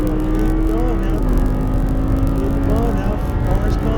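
An Audi R8 engine pulls under throttle on a race track, a steady mid-volume drone with a rising and shifting tone, with a voice talking over it.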